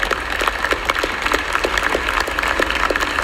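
An audience applauds during a political speech at a livestreamed House Speaker vote, steady dense clapping with sharp individual claps standing out, held at an even level throughout.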